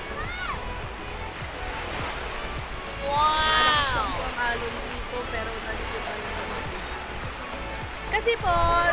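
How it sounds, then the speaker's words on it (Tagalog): Sea waves washing at a beach with strong wind, a constant close surf wash with people talking over it throughout. "Ayan po, ang dagat."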